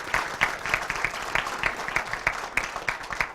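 An audience at a spelling bee claps between rounds, a moderate burst of applause that is steady and even and a little distant, with no voices over it.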